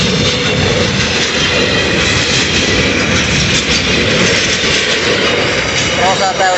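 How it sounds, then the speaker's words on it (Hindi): An express train rumbles past a closed railway level crossing, with loud continuous wheel and carriage noise filling the whole stretch, close and unbroken. "तो दोस्तों अभी ट्रेन आया हुआ है, तो अभी यहाँ पे फाटक लगा हुआ है, तो ट्रेन क्रॉस हो जाता है"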